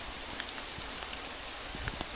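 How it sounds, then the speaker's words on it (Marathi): Heavy rain pours down outdoors beside a hillside during a strong seasonal storm, a steady dense hiss of drops with occasional louder patters close by. "पाऊस लय जोरात आलाय आणि गरजायला सुद्धा ना लागलंय"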